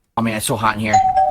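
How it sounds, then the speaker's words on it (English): A doorbell rings partway through, a sustained chime tone sounding under a person talking close by in a warm room. "That's the doorbell, DoorDash."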